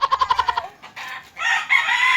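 Rapid rhythmic clucking from chickens gives way to a loud, drawn-out rooster crow, close by with no talking.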